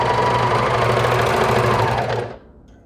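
A sewing machine stitches a cami hem, a loud, steady close-up whirring hum that runs for about two seconds and then stops.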